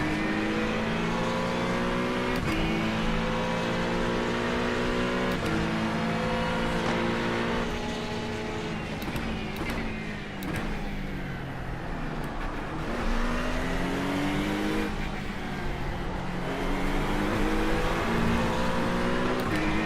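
Race cars lap Imola in a video game race, engines whining and revving hard through the gears with pitch rising and falling as several cars jostle close together, continuous and loud.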